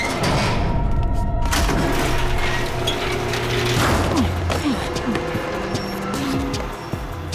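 An elevator mechanism runs in the Code Lyoko animated series, a loud continuous mechanical rumble with clanking, ratcheting thumps and sliding tonal whines, fading slightly near the end.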